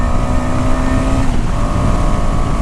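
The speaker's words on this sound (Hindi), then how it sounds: "देखो मैंने इसको 3rd गियर से ही पुल किया" A KTM Adventure motorcycle with 30 bhp and 24 Nm pulls hard from third gear, its engine a loud, steady drone buried under heavy wind rush throughout.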